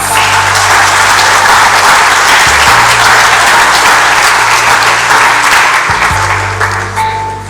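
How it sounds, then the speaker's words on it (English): Loud, sustained applause from an audience at a college graduation ceremony in a hall, continuous dense clapping that fades slightly toward the end. "Let's give them another round of applause."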